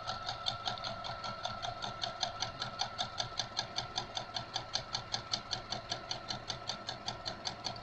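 Sewing machine stitching fabric strips for a rag quilt, a steady rapid whirring with regular rhythmic ticks, fairly quiet and running on its own without talk.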